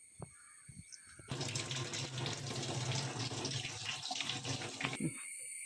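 A kitchen tap runs full for about four seconds while mangosteen fruit is rinsed beneath it, a steady close splashing rush that starts and stops abruptly against a quiet background.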